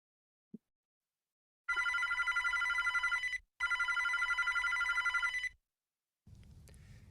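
A telephone rings for an incoming call with two long, loud bursts of trilling bell tone separated by a short gap. After a faint click and a pause, a low hum follows.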